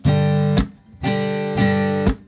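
An acoustic guitar is strummed in uneven bursts: long ringing chords cut off abruptly by short muted strokes, with no steady beat, close and loud.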